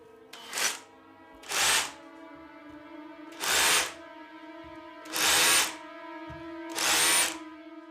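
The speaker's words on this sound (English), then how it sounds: "she thought she could hear drilling and hammering next door" A power drill running in five short, evenly spaced bursts, each a loud, close whirring spin-up and stop, separated by near silence, with no talk.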